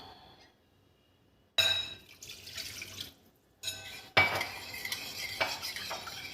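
Beetroot water pours into a sauce mixture with vinegar, splashing and trickling alongside clinks of a spoon stirring against a glass or metal bowl, starting after a quiet moment and coming in short close bursts.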